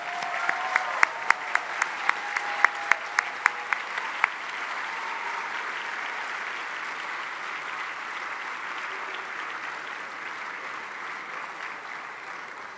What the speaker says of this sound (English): Now let's give them all a round of applause.